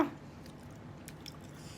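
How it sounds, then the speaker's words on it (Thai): Close, faint chewing of a fried riceberry rice salad tossed with naem fermented pork sausage, soft crunchy bites and wet mouth sounds repeating steadily with no talking. "อย่าใส่คำใหญ่เกินเคี้ยวยาก"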